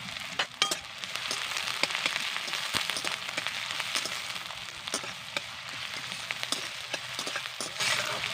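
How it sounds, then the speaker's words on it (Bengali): Two medium chopped onions frying in a pan for jhinge posto: a continuous crackling sizzle with scattered clinks and stirring taps, close and steady, no voices. "এবার দিয়ে দেবো কেটে রাখা পেঁয়াজ"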